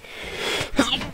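A single close sneeze, a brief breathy build-up bursting into a sharp explosive release.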